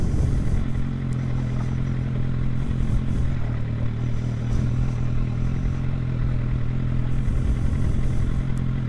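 A motorcycle rides over bumpy, rough terrain on a country tour around Oxfordshire, its engine droning steadily and loudly throughout, with clattering and scraping knocks from the rough ground.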